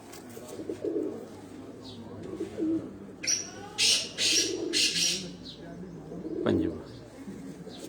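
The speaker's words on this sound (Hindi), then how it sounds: "ਹਰਾਂ ਘਰ ਦੇ ਕਬੂਤਰ ਨੇ ਜੀ ਬਰੀਡਰ ਕਬੂਤਰ ਨੇ" Breeder pigeons cooing on a rooftop, with soft repeated coos and a few brief squawks and flutters close by, while someone talks over them.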